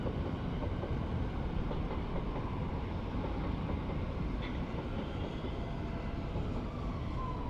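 A train rolls through a station in New Cross, London, a steady broadband rumble holding at an even level throughout with no speech.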